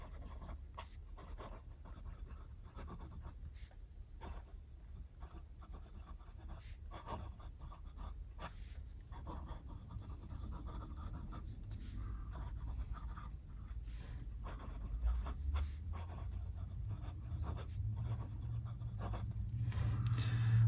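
Fountain pen nib scratching across paper in soft, close strokes with short pauses between words, faint against a quiet room hum.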